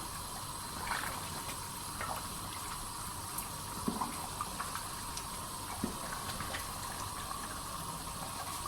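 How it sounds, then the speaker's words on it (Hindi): Chickpeas simmering in a cooking pot, giving a steady low bubbling wash with faint scattered pops and hiss throughout, close and fairly quiet, with no talk. "4 से 5 मिनट हमारे हो गए हैं चनों को पकते हुए।"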